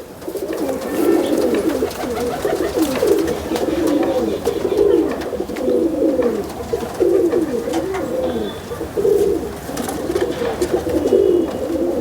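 Pigeons coo steadily in a rolling, repeated rhythm at close range, the throaty calls overlapping one another continuously throughout.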